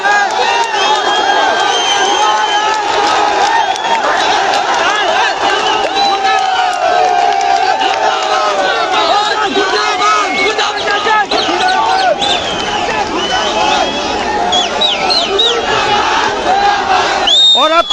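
A large crowd of youth protesters on a street in Uttarakhand cheers and shouts continuously, a dense, loud roar of many voices with whoops rising over it throughout.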